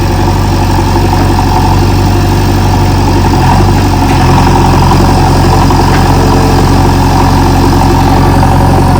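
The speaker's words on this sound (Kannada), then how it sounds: "ಈ ಕಡೆ ಸ್ವಲ್ಪ ಕಲ್ಲಿದೆಯಲ್ಲ ಅದನ್ನೆಲ್ಲ ಸೈಡಿಗೆ ಹಂಗೆ JCBಲೇನೆ ಒತ್ತರಿಸ್ತಾ ಇದ್ದೀವಿ." A JCB backhoe loader works a rocky farm plot, its heavy diesel engine droning steadily at near idle for the whole stretch, close and loud with no talk.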